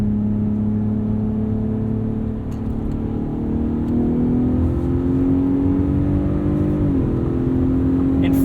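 A 2021 Ford F-150 Raptor 37 Performance Package drives in 4 auto on a dirt road, giving a steady, loud, low engine drone with a gradual rise in pitch as it pulls, heard from inside the cab with no talk.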